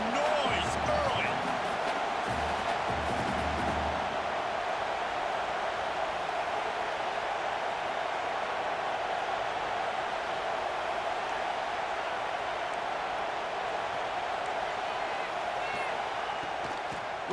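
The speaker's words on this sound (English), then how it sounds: "This crowd bringing the energy and noise early." Stadium crowd in the EA Sports College Football 26 video game, a broad, steady roar of many voices held at an even loud level throughout, with a few thumps and a brief voice near the start.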